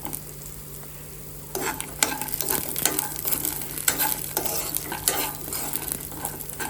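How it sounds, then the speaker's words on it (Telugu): Peanuts and green chillies sizzle and fry in a pan while a utensil stirs and scrapes repeatedly, with no talking. "అందులోకి పచ్చిమిర్చిని కూడా వేసుకొని వేయించుకోవాలి"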